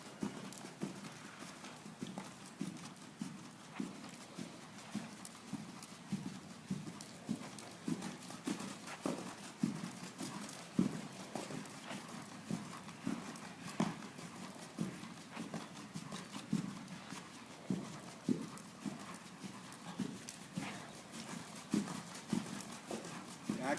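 Horse hooves clip-clop in a steady, rhythmic canter during a riding lesson, each beat distinct and close by, repeating continuously at moderate loudness with no talk over it.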